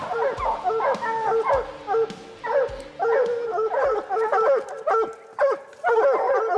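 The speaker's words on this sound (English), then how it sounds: "You can hear the dogs, they're going nuts" Several hounds bark and bay frantically and nonstop at close range at a mountain lion up a tree, their yelps overlapping in an excited chorus.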